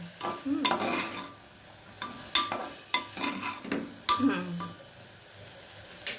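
Chana chaat being stirred in a pan, with a few distinct scraping and clattering strokes of a spoon against the metal and a faint sizzle beneath, close by and moderately loud.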